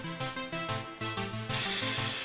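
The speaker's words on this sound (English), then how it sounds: "The face is then primed with white vinyl spray paint." A short musical melody plays, then a loud, steady hiss of white vinyl spray paint priming a panel takes over for the final second.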